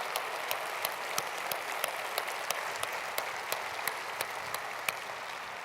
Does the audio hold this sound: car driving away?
no